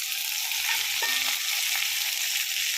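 Onion (savala) sautéing in a pan for a Kerala-style achinga payar mezhukkupuratti, a steady, close hiss of frying with light stirring and a brief tonal squeak midway.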